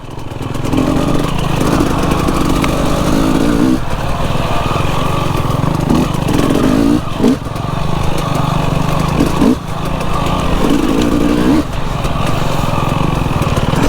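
A four-stroke 390 dirt bike engine runs loud and steady throughout, with a buzzing drone and a few brief dips and rev changes, close by and without clear speech on top.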